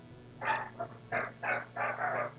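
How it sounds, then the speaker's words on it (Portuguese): Dogs bark at a house, about five sharp barks in an uneven run, moderately close but somewhat muffled, over a faint background hum. "os cachorros estão latindo só porque tem gato passando na frente de casa"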